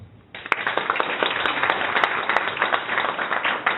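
A coworking-space audience applauds the annual winners at a startup pitch networking event, dense clapping starting abruptly after a quiet moment and holding steady with sharp individual claps standing out.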